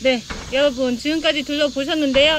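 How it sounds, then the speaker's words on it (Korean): Cicadas drone in a thin, continuous, high-pitched buzz at a hanok cafe with a large 7,000-pyeong garden, held steady under a person talking loudly nearby throughout. "매미소리 들리시죠?"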